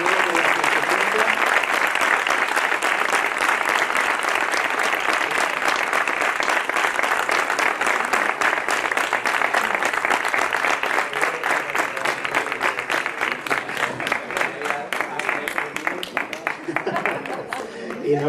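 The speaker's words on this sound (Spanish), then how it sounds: "yo creo que el que se merece la ovación fuerte es el maestro" An audience at a bullfighting event gives a long, loud ovation, dense continuous clapping that fills the space for nearly twenty seconds and thins slightly toward the end.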